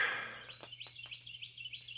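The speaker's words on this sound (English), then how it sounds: "you'd probably hear the bullfrogs and the birds" Small birds sing outdoors in repeated short chirps, fairly faint, over a steady low hum, with a bullfrog-and-bird setting around a live stream.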